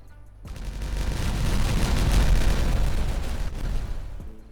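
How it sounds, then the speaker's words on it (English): A large chain of explosives detonating in the beaver city-builder game Timberborn: a dense, continuous roar of overlapping blasts and rumbling booms that swells and holds for several seconds, loud and close, then cuts off abruptly, with no talking. "Let's detonate all this."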